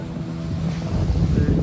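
A fishing boat moving on the sea off Maravanthe, heard close as a rumbling low hum of motor and water, with wind noise on the microphone that grows louder toward the end.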